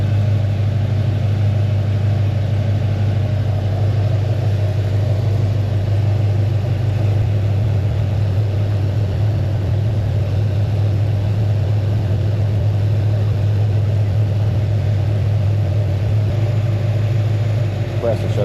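A Chevrolet C10 engine idles with its AC compressor cycling, giving a steady, close, low mechanical drone that holds evenly throughout.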